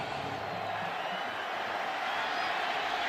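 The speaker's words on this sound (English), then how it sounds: "All right, this crowd is up." A stadium crowd at a college football game between Nebraska and Illinois roars steadily before a third-down play. The dense, loud wash of cheering holds for the whole stretch without a break.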